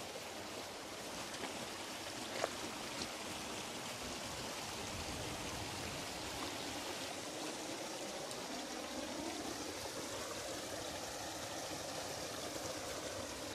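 A river on the Isle of Man at the Kirk Michael mines flows with a steady, faint wash of running water, continuous and unbroken for several seconds, with no talk.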